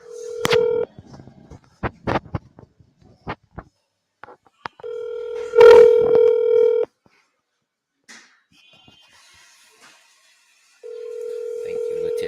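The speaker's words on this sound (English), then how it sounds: "Pick up the phone." A telephone call is dialed and rings out, with sharp keypad taps followed by repeated long ringback tones separated by silence. A person speaks briefly between them.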